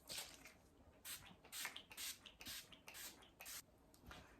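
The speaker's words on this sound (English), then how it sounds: "I'm going to use this setting spray from Maven Beauty." A series of short, bright spritzes from a pump bottle of rosewater makeup setting spray, about eight quick bursts in an uneven rhythm, close and fairly quiet.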